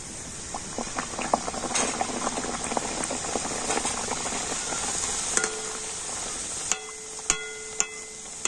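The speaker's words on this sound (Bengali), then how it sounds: "তো দেখুন আরো একটা পরোটা ওই একইভাবে কিন্তু আমি ভেজে নেব" Dhakai paratha flatbread frying in a pan gives a steady, close hiss and bubbling sizzle with scattered pops. Near the end a few sharper clicks and knocks sound over it, and no one speaks.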